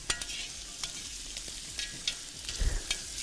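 Chopped kokoreç fries in a cast iron pan in a home kitchen, a soft sizzle broken by sharp clicks and scrapes of stirring, quiet and close with no talk.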